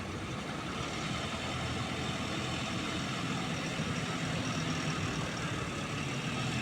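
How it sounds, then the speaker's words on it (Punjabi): A tractor engine runs steadily while churning mud into slurry in a field, a continuous low rumbling drone at moderate distance with no breaks. "ਗਾਰਾ ਦੋਸਤੋ ਬਣਾ ਬਣਾ ਰਹੇ ਨੇ ਟਰੈਕਟਰ ਦੇ ਨਾਲ"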